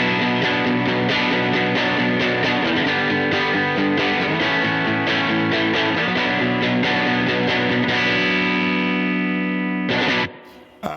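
An electric guitar runs through a D250 overdrive amp with reverb, playing sustained, gritty breaking-up chords that ring out loud and steady before cutting off abruptly near the end.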